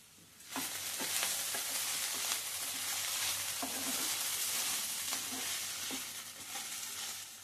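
Lady's finger (okra) frying in a pan with curry leaves and spices, giving a loud, steady sizzle that starts suddenly and is broken by occasional stirring scrapes.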